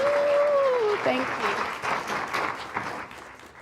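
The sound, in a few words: audience applause at live event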